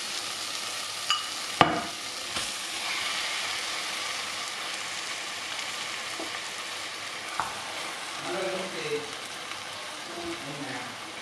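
Marinated chicken is dropped into a hot pan of masala for Chettinad chicken kulambu, giving a couple of sharp clanks followed by a steady close sizzle and intermittent stirring scrapes.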